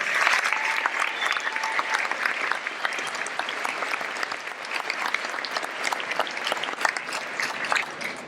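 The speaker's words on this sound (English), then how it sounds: "So let's clap it up for them." Sustained audience applause for teachers, admin and staff at a class of 2017 high school graduation, a dense, steady wash of many hands clapping throughout without voices standing out.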